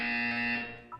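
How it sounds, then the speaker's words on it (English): A loud, steady electronic buzzer tone from the Portal 2 test chamber drones for about a second, then cuts into two short, higher blips. "You will hear a buzzer."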